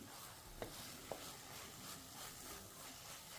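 Soft scraping and stirring of amaranth greens with an onion-chili spice mix in a frying pan over a faint sizzle, with a couple of brief utensil clicks early on.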